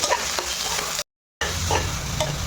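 Sliced onions, green chilies and curry leaves fry in hot oil for a gravy, a steady loud sizzle with stirring scrapes close by, broken by a short silent gap midway, no talking.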